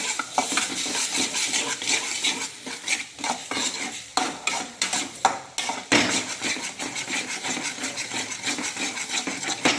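Two eggs beaten in a bowl for an egg podimas, with a utensil clinking and scraping against the dish in quick, irregular strokes, close and fairly loud, with brief pauses between bursts.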